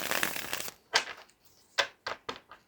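Small Friends sitcom-themed tarot cards shuffled by hand: a dense burst of riffling followed by several short, crisp card slaps and flutters, close and alone.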